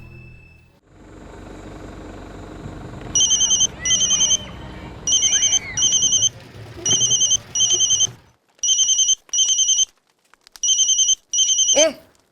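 A telephone rings in repeated paired bursts of bright electronic trills, loud and close, over a low room background with faint movement before the ringing starts.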